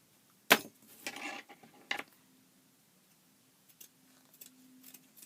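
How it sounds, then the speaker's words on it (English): Scissors snip through burlap to cut out a circle, giving a few sharp, close crunching cuts followed by quieter rustles and small ticks, with no talking. "if I were to cut this piece of circle out for my flower"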